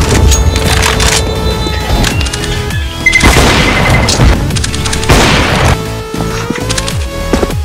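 A grenade explodes in the CS:GO video game, a loud booming blast that stands out over a dense, busy mix of gunfire and game effects.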